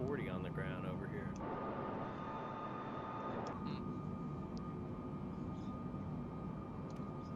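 Boeing Dreamlifter engines in a flight simulator hold a steady, broad roar with a constant whine throughout, and a person talks over it at the start.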